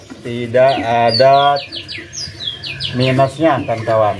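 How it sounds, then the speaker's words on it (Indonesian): An oriental magpie-robin (kacer) at a bird market gives bright, clear whistled calls, a couple of phrases close by, alternating with someone talking. "Itu tadi ada burung kacer bunyi."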